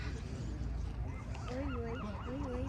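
A seagull calls close by at a San Francisco waterfront restaurant, giving a run of rising and falling honking cries in the second half over steady outdoor background noise.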